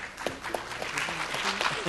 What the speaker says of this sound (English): Getting applause already.